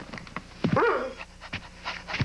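A dog pants in quick, rhythmic breaths close by, with a brief whine partway through, fairly quiet and with no talking over it.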